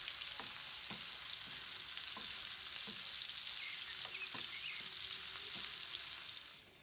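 Minced meatballs frying in a tablespoon of butter, a steady broadband sizzle holding at even loudness, with a few soft clicks and stirs along the way before it fades at the very end.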